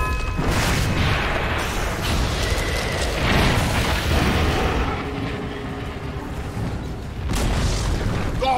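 In the video game Dota 2, the Dire's middle tower comes under attack, heard as loud, dense booming impacts and bursts of combat effects, with faint game music layered beneath.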